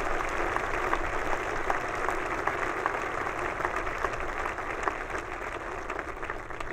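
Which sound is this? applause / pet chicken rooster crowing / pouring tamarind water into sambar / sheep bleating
applause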